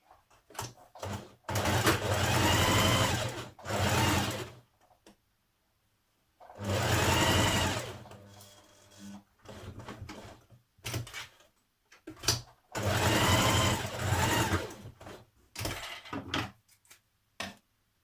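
Home sewing machine stitching Simplicity 8218 jacket pieces together at the neck point, running in three long loud bursts separated by pauses filled with small clicks and handling knocks.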